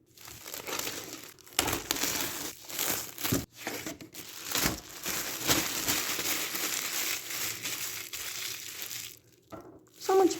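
Plastic packaging crinkles and crunches almost continuously as canvas keys and art supplies are unwrapped, a busy close-up rustle with brief pauses and a few sharper crackles.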